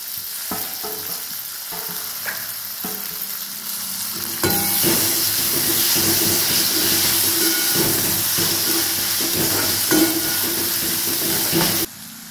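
Tomatoes go into a hot pan while cooking upma, setting off a loud, steady sizzle and hiss of frying with stirring scrapes. The sound lifts sharply midway and holds strong until it drops at the end.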